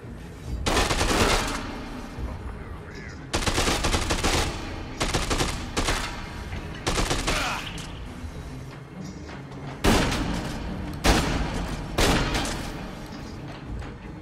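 Machine gun fire in the Dead Rising 2 video game, loud and close, coming in several separate rapid bursts with short pauses between them.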